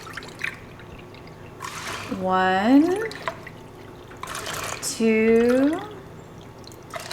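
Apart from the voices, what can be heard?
water poured into a pot for elderberry syrup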